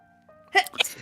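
A single sharp sneeze bursts out after a faint low hum, close and sudden, followed by a short breathy aftershock.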